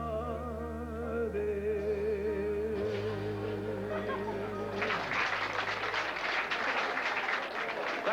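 A crowd at a show applauding; music plays first, then clapping swells in partway through and continues dense and steady to the end.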